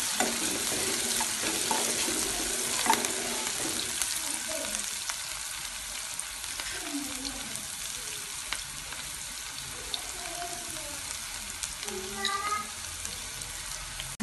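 Ragi semiya upma is stirred in a pan, with a steady close sizzle and irregular scraping and shuffling of the spoon, plus a few brief squeaks near the end.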